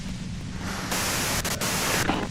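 In the video game Disco Elysium, a radio gives off steady, loud hissing static that shifts in level and character a few times with brief dropouts, with no voices.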